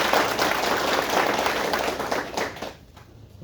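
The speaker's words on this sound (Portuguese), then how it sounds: "Vamos dar uma outra salva de palmas aqui para o nosso coordenador" An audience applauds a coordinator at a Brazilian agritech event, dense sustained clapping from a crowd that tapers off near the end.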